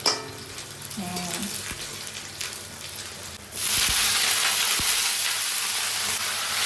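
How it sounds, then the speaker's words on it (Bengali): Onion, garlic and chili fry in a pan, a steady sizzle that swells into a loud, constant hiss partway through, with a few faint utensil taps. "এদিকে পেঁয়াজ রসুন লঙ্কা ভাজা ভাজা হবে"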